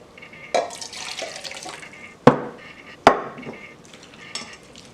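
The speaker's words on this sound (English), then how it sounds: "And I'm going to put a little bit more hot water in there." Hot water is added to a bowl of pounded yam fufu mix during cooking. A short splash and trickle are followed by two sharp clinks of a utensil against the bowl, then softer stirring and dripping, all close by.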